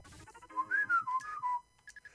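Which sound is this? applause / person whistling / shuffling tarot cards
person whistling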